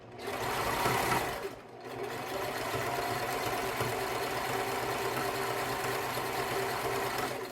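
Sewing machine stitching in a sewing class, a continuous close whirring run with a brief dip near the start, steady and loud with no talk.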